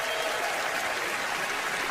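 Audience applause fills a large awards-show hall at the ESPY Awards, a steady, dense wash of clapping that holds evenly for two seconds with no voice on top.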